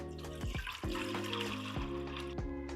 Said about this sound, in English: Add fresh drinking water.